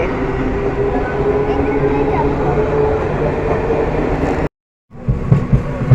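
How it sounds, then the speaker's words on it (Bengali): A departing train rumbles steadily nearby with a low mechanical drone and voices around, briefly cutting out before the noise resumes. "এই ট্রেনটা তো চলে যাচ্ছে"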